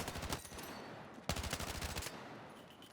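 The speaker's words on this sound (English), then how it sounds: "And here's the hip fire." Automatic weapon hip fire in Battlefield 6 makes two rapid bursts of close, loud shots, separated by a short gap.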